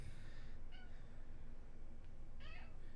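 Cat in a Kingdom Hearts 3 game session giving several short, bright meows for attention, close and clear over a steady low background hum.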